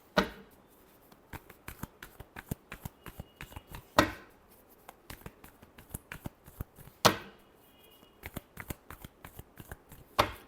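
A deck of tarot cards is riffled and shuffled close up, with rapid papery flicks and periodic sharper bridging snaps repeating every few seconds, heard alone without talk.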